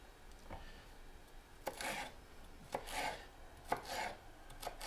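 A knife chops a bell pepper on a cutting board, four or five sharp, quiet thunks spaced about a second apart with soft scraping between them, close with no voices.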